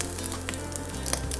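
Onions sizzling and frying in a pan, a steady close crackling hiss that runs the whole time, with a low hum underneath.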